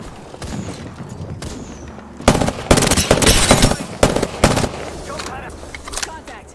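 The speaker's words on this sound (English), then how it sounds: "I've got my mark firing for effect." Video game gunfire from Apex Legends: a few sharp bursts of shots crack out over a couple of seconds, loud against a busy game background, with voices calling out around them.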